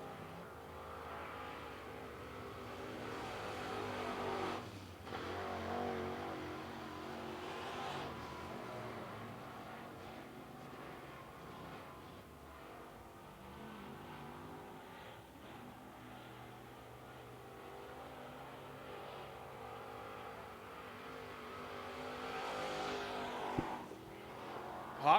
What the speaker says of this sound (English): we're going back in time over almost 40 years of Wedge Late Model hot laps here at Carolina Speedway